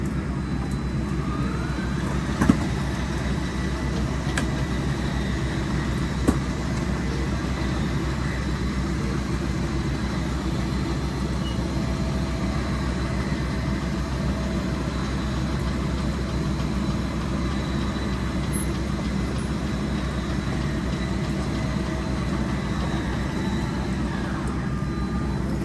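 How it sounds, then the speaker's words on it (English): A 2021 23MKBL RV's slide-out motor drives the slide outward, a steady low mechanical hum and drone holding at an even level throughout, with a couple of faint clicks near the start. "Tone changes on the motor when it reaches the end."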